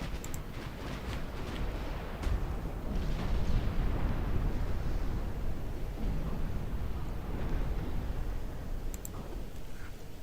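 Naval gunfire and explosions from destroyers and battleships in a naval warfare game, a dense continuous roar of blasts and rumbling booms with occasional sharper bursts, loud and sustained throughout.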